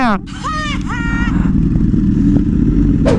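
A Ducati V4 motorcycle engine runs with a steady, loud drone throughout, with a few rising and falling revs near the start. Voices are heard over it.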